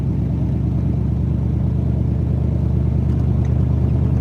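A Ford Model A hot rod, 94 years old, rumbles along on the road with a loud, steady low engine drone and rhythmic pulsing exhaust throughout.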